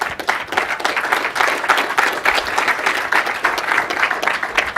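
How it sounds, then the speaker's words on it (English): A conference audience applauds at a cloud computing talk, many hands clapping in a sustained, even round that holds steady for several seconds with no voices over it. "let's give a round of applause to the community folks"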